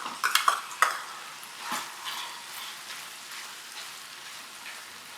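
Chicken filling with diced capsicum and sweet corn being stirred in a pan for stuffed buns, a few sharp spoon scrapes up front, then a faint steady sizzle continuing alone.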